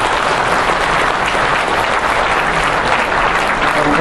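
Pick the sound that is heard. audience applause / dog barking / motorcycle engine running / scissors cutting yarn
audience applause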